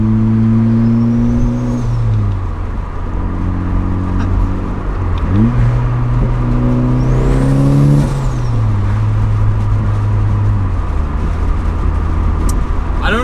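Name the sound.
turbo Miata exhaust while accelerating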